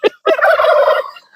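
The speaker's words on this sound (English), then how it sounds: "As always, I've got my turkey entourage." A turkey gobbles up close, a loud rapid warbling call after a short sharp note, with a faint extra call trailing at the end.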